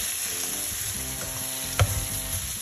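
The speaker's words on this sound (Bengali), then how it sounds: "একটু 30-40 সেকেন্ড ধনে পাতাটা একটু ফ্রাই করে নিয়ে ক্রিমটা অ্যাড করে দেবো।" Coriander leaves sizzle in a pan for a shrimp stir fry, a close steady frying hiss with a spatula scrape and knock partway through, no voices.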